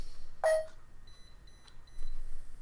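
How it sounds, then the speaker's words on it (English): A Square Off Pro electronic chessboard gives a single short, faint electronic beep to signal check during a game, followed by quiet background. "that little beep"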